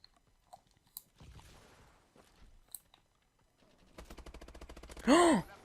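Quick burst of rapid gunfire near the end of a Call of Duty: Advanced Warfare match, loud and close, preceded by quieter scattered clicks, footsteps and game noises.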